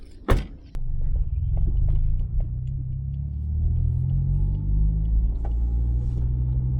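A Honda CR-Z engine with a Spoon N1 exhaust and sub silencer fitted idles with a deep, throbbing exhaust rumble after a sharp click, steady and close, with no voices.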